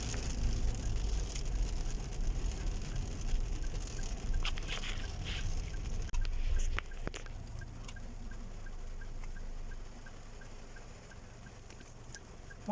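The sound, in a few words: rain falling in Medina with passing cars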